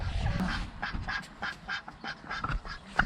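Several ducks quack in a loose, repeated rhythm, fairly close, with a few honking calls among them and no talking.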